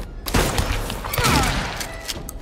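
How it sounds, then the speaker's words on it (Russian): Shotgun blasts in the Silent Hill 2 Remake video game: several heavy, booming shots close together amid dense in-game noise and clatter, loud and close, with a brief voice in places. "Я в него два раза с дробовика выстрелил"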